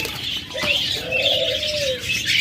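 Caged lovebirds at a bird seller's stall chirp continuously, with a long warbling call and bright tweets layered over steady background chatter of other birds.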